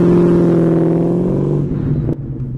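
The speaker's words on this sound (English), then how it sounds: "So I'll put it in first gear, on my foot on the brake, and build up the revs." A 1998 Ford Mustang GT V8 held in first gear against the brake revs up as a loud, close engine drone. Its tone holds steady, then eases and drops off near the end.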